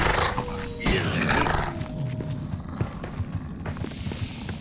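Horse hooves clip-clop in the fantasy video game Return to Moria, uneven thuds and clatters mixed with combat clanks and game effects, fairly close and moderately loud.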